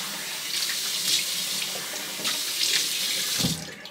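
Hot water runs steadily from a bathroom tap into the sink, a close, continuous splashing hiss with a brief gurgle near the end.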